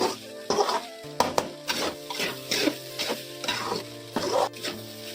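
Egg rice stirred and tossed in a hot pan, a spatula scraping in repeated strokes over a steady sizzle of frying.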